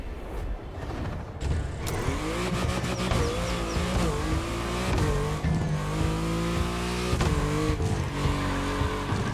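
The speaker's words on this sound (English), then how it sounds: "Audi R8 LMS GT2, a car that was first introduced at Goodwood's Festival of Speed." Audi R8 LMS GT2 race car in The Crew Motorfest, its engine revving loud and close through repeated gear shifts, with tire squeal and skidding across a steady run.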